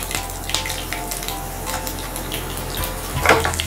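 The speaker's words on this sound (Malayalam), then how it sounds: "കടുകെല്ലാം നന്നായിട്ട് പൊട്ടട്ടെ" Mustard seeds splutter and crackle in hot oil during a tempering, with a steady close frying hiss scattered with sharp pops and a denser burst of crackling near the end.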